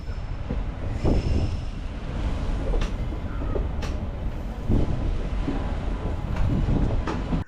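Passenger train pulling into Pollachi station, a steady loud rumble of wheels on rail with repeated clicks and short squeals from the wagons as it rolls in.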